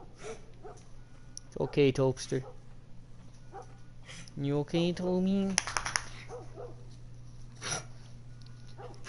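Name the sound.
dog whimpering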